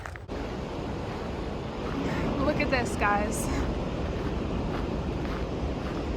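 Strong ocean waves rolling onto the Big Sur coast, a steady broad roar of surf mixed with wind buffeting the microphone, while a person speaks briefly over it.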